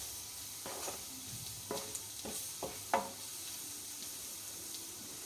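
A Kerala-style elambakka clam roast is stirred in a pan, with several distinct scraping strokes of the spoon over a low, steady sizzle of cooking.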